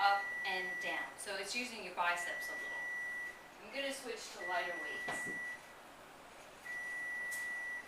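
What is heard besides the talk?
alarm going off in the background while cooking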